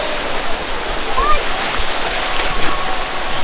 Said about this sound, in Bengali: এই দেখুন সমুদ্র বীচ